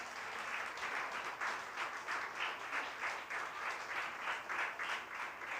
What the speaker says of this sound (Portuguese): Vocês podem aplaudir a Jesus pela vida dele